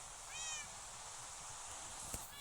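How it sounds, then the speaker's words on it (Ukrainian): Soft cat meows in a video game, a couple of short plaintive cries over a quiet background, followed by a faint click. "Дощик, а коти плачуть"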